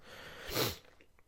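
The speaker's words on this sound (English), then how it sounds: "I'm gonna sneeze." A single sneeze, a quick breathy burst peaking sharply then fading, followed by a faint sniff.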